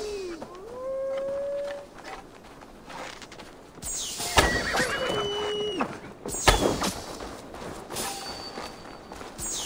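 A horse in the video game Assassin's Creed Valhalla lets out several loud whinnies and snorts, mixed with hoof clatter and game effects, with no talking over it.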